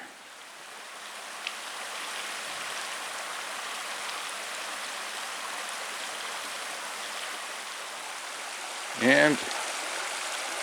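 Creek water rushes steadily at Big South Fork, running higher than usual, a constant broadband wash filling the whole stretch; a brief word is spoken near the start and a short voiced sound rises near the end.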